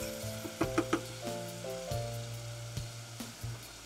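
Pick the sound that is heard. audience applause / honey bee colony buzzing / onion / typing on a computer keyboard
onion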